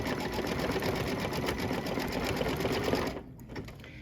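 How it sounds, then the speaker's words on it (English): A computerized embroidery sewing machine stitches with silver metallic thread, a steady rapid mechanical whir and needle clatter running loud and continuous before cutting off near the end. "now it's going to stitch the spark. I put the silver metallic in there"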